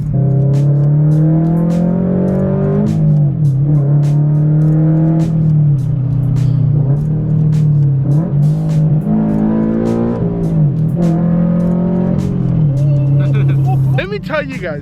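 A manual Subaru BRZ's engine gives a steady, loud, low rumble while driving, swelling slightly with throttle changes, with voices heard at times over it.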